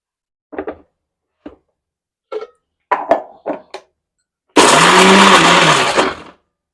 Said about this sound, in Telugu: యాలకులు కూడా వేసేసి మిక్సీ అయితే పట్టేసేసుకుంటాను ముందు దీన్ని.